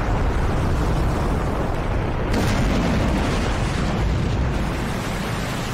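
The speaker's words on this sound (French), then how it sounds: "On a enfin battu des Tessai sur l'explosion pyrotechnique la plus impressionnante du manga" A long, dense roar of a pyrotechnic explosion from the Bleach anime, loud and sustained throughout with no pause.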